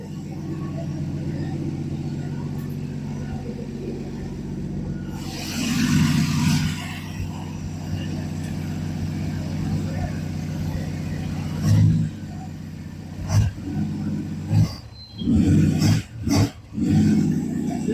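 A Dodge Dart engine runs steadily on fast idle, loud and close, then a few quick revs near the end, with people talking over the running engine.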